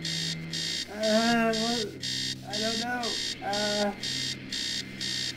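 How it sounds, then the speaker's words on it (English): Alarm clock in the horror game Stories Untold: The House Abandon, a steady repeating buzzing ring pulsing behind and under several bursts of close talking. "Turn off the alarm clock."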